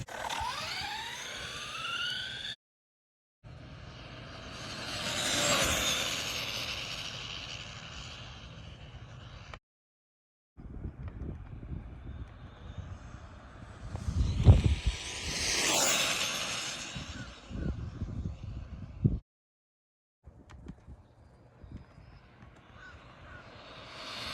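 A Traxxas Bandit RC car on a full-throttle speed run with a 2S LiPo and Turnigy motor, producing several high-pitched electric motor whines that rise as it accelerates and then fade as it passes, separated by short silent gaps.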